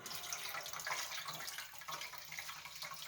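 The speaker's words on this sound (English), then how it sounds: "Is that the chemical name for this solution that I'm pouring out?" Calcium acetate solution made from eggshells pours out in a continuous soft splashing trickle, faint and close, with no voices.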